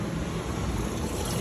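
An LG washing machine that would not drain, now draining its water: a steady, even rush of flowing water, continuous and fairly loud throughout, with no voices over it.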